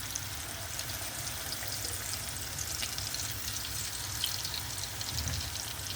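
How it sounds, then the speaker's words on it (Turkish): Zucchini fritters (mücver) frying in oil in a pan, giving a continuous, even, close-up sizzle with fine crackling throughout and no voices. "Şimdi kızarmalarını bekliyorum."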